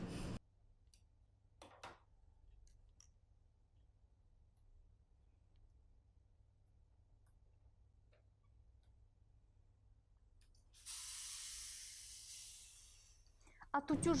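Steam iron pressing a dart on a frock coat gives a sudden loud hiss of steam late on, lasting a few seconds, after a quiet stretch with a few faint clicks and handling taps.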